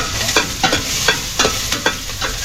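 Onions sautéing in a hot pan, a steady sizzle broken by a series of sharp scraping strokes as a utensil stirs them, close and fairly loud with no talking.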